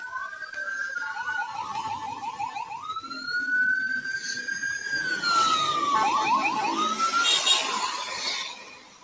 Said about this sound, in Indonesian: Kita ke kiri aja dulu yuk. Kita kasih lewat dulu mobil ambulannya.